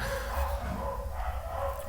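Dogs bark and yip in the distance, faint and intermittent over a steady background hum, with no one talking.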